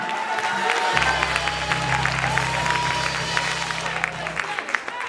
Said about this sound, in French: acclamer fortement Jésus